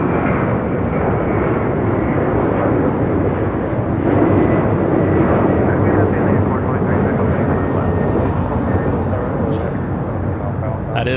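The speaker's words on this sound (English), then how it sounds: "That is Delta Airlines 670. Boeing 737-332 extended range, 30 years of age. On its way to JFK." A 30-year-old Delta Airlines Boeing 737-300 extended range takes off from LAX, a loud, sustained broadband jet roar that swells slightly mid-way and stays powerful throughout, with a voice briefly audible beneath it.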